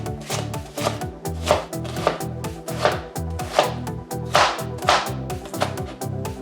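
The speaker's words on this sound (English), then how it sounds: "Now, it's time to slice them." A knife slices yellow onions on a board in a quick, regular rhythm of crisp, close chops that keep a steady pace for several seconds, fairly loud and with no talking.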